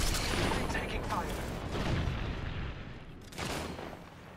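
Gunfire in Apex Legends rumbles through a dense, noisy battle mix, with heavy booming shots and a sharp burst near the end; a voice talks over the action.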